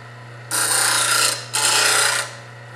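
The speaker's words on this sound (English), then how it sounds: "I press up against that steady rest, and then I start grinding." A plane blade's primary bevel pressed against a bench grinder steadied on a rest, two harsh rasping grinding passes, each about a second long, over a steady motor hum, with no speech.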